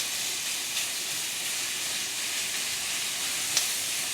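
Pork sausage sizzles steadily in a pan over medium-high heat, a constant broadband hiss with a couple of small pops and no talk.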